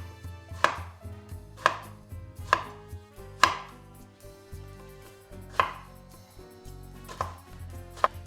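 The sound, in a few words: chopping eggplant with a knife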